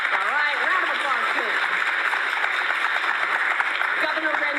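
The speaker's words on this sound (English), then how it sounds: "round of applause" Audience applause for Governor Edward Rendell at a student citizenship event: steady crowd clapping throughout at moderate distance, with someone speaking over it at the start and end.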